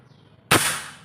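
A single sharp PCP air rifle shot, a loud sudden crack that decays quickly into a short hiss.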